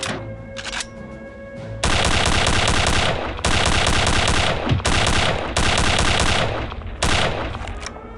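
Dense, loud automatic gunfire from the World War II shooter Return to Castle Wolfenstein, rapid bursts rattling almost continuously with brief gaps between volleys, heard alone.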